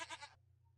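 A brief goat bleat from the video game Goat Simulator, a single short cry lasting about a third of a second, fairly quiet over a steady low hum, then silence.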